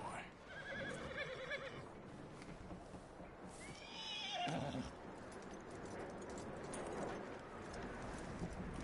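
A horse whinnies loudly near the middle of Red Dead Redemption 2 gameplay on PS4, with hoof clops and steady background noise, under ongoing game-world ambience and some speech.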